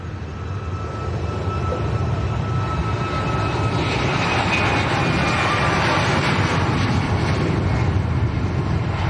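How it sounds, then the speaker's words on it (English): A Ryanair airliner bound for Lanzarote takes off down the runway at Leeds Bradford Airport, a loud, steady broadband jet roar that swells and holds throughout. "Ryanair to Lanzarote on the roll."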